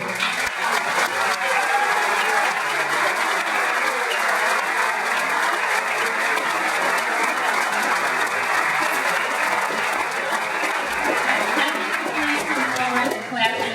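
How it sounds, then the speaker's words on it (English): Sustained applause from a big audience at a prom coronation, thick and loud, keeping a steady level for the whole stretch with no voices rising above it. "I would just really like to give a big round of applause"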